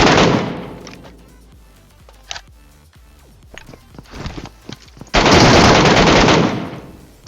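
In a shooting video game, loud close bursts of automatic gunfire crack out, including a sustained spray near the end, with scattered single shots and footsteps between the volleys.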